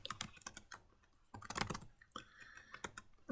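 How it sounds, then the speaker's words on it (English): Keystrokes on a computer keyboard come in short irregular bursts with pauses between them, close and fairly quiet, with no one speaking. "So in this case, I could just type in equals salvage."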